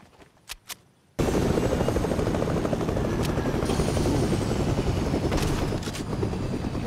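A helicopter in Fortnite starts up after a few faint clicks, then a loud, steady rotor roar that stays close and continuous for several seconds.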